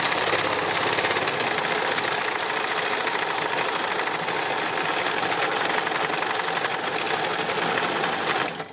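A sewing machine stitches free machine embroidery, simple lines worked out from the centre of a fabric piece, its rapid needle chatter loud, close and continuous before stopping briefly at the very end.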